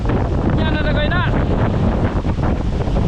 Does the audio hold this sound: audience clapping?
no